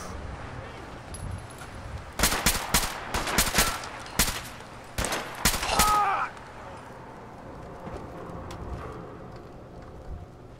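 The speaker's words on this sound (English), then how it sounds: "Shooting randomly into the dark." Gunfire in Fallout 4 fired randomly into darkness: a series of sharp, loud shots in uneven clusters over several seconds, followed by quieter ambient sound and faint talk.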